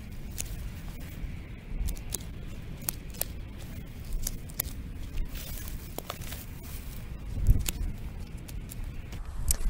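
Pruning shears snip back perennial stems in a Texas garden, giving sharp, close clicks at irregular intervals over a low rustle of foliage, with no talking.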